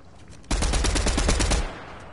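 Burst of rapid automatic gunfire from a purple ranger gun in a shooter video game, about a second of loud, dense shots fired close, then cut off, with no talking.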